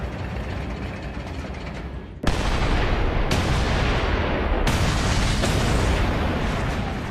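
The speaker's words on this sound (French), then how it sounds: "Après un bombardement d'artillerie monstrueux," Heavy artillery bombardment at Verdun in 1916, railway-mounted 400 mm cannons firing 900 kg shells: a dense, continuous roar of blasts with sharp new booms striking at intervals, loud and close, no voices.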